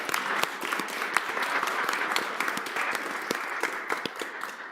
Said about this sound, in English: And also a round of applause